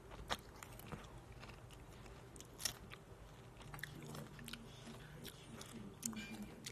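Doritos tortilla chips get crunched and chewed close up, with irregular crisp bites over a quiet background and some faint talk.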